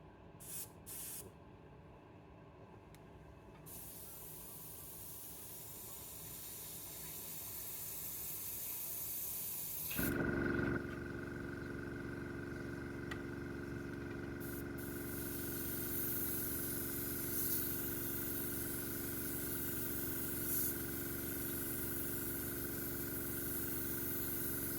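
Acrylic lacquer hobby model paint, Australian made, sprays from an airbrush in short hissing bursts and then a long steady spray, close and fairly loud, with no talking.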